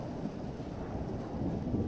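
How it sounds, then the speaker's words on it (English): Rolling thunder rumbles low and continuous during a storm, with a faint wash of rain behind it and no voices. "did you hear that fucking thunder?"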